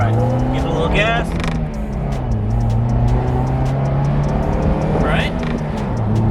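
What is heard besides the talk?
convertible sports car accelerating and shifting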